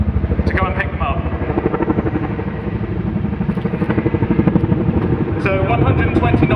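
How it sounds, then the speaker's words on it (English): A CH-47 Chinook tandem-rotor helicopter performs a rapid quick stop at an air show, its rotors beating a loud, fast, steady thudding pulse with whining turbines, while a commentator talks over it. "before they undertake a quick stop"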